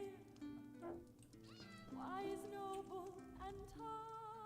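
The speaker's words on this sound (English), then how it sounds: "Fucking cat." A cat in The Elder Scrolls Online meows several times in drawn-out, whiny calls over quiet game ambience.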